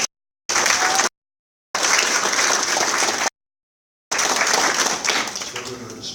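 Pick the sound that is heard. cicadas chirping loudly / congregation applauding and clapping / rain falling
congregation applauding and clapping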